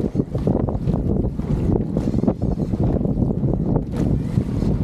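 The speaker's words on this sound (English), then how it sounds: "got a little bit of wind blowing us around" Wind buffets the microphone on a women's masters eight rowing boat at the Autumn Head race, a continuous close, gusty roar with irregular surges and low rumble throughout.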